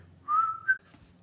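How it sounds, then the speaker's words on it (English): A single short whistled phrase, a clear rising tone with a brief higher note at the end, fairly quiet and close. "My whistling."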